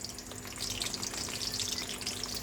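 Eggplant slices frying in oil, a quiet but busy bubbling sizzle with rapid small pops over its short length.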